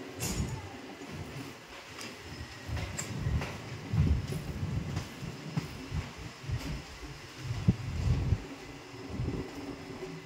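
A special train travelling from Hyderabad to Bihar rumbles along with irregular low thumps and rattling clatter, moderately loud and continuous.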